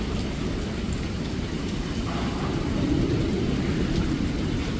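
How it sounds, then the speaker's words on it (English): Hurricane Melissa's wind and heavy rain lash Jamaica in a steady, loud, unbroken roar of storm noise with a constant dense low rumble and no voices. "And it is just non-stop wind, non-stop wind, non-stop wind since it started."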